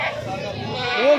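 A goat bleats briefly at a busy goat market where desi and Beetal breeds are traded, the call rising near the end over close, continuous talk.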